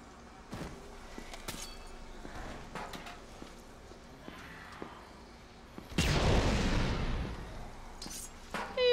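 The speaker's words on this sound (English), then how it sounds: "Are you setting off explosions?" Explosions in the video game Dead Rising 3: a broad blast about two-thirds of the way through rumbles loudly and fades, following scattered thuds and clatter in the game action.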